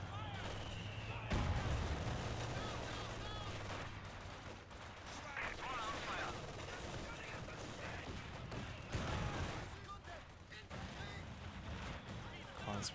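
Mortar blasts and steady gunfire roll through a Company of Heroes 2 battle, with heavy booms and rattling bursts near and far, while a commentator talks over the fighting.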